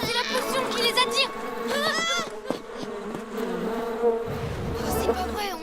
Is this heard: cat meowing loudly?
no